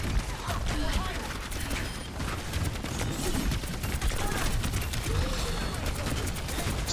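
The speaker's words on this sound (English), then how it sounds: "Just a couple of shots going." Gunfire crackles through a busy Overwatch 2 match, with scattered shots blending into dense game noise and continuous caster talk over the top.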